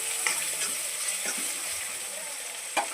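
Salted tomatoes fry in a pan, a soft steady hiss close by with a few brief spatula scrapes, the loudest at the very end.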